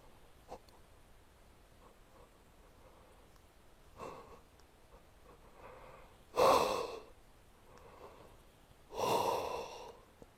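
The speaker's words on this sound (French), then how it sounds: "Laissez venir les bâillements" Slow breathing during a Qi Gong exercise, with soft airy breaths that build to two loud, long breathy exhalations resembling yawns, no speech.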